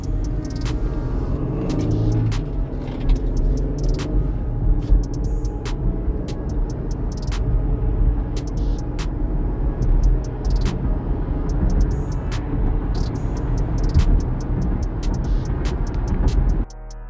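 A 2020 Jeep Grand Cherokee Limited X cruising on a main road in eco mode, a steady low engine and road rumble heard from inside the cabin, with occasional faint clicks over the constant drone and no talk.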